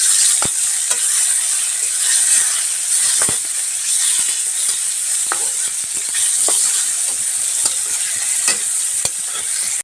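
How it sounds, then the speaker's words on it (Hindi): Tomato masala frying in a pan for egg bhurji over low heat, a steady close sizzle with frequent scraping stir strokes and clinks of the spatula throughout, no voices. "अब अच्छे से भून लेते हैं।"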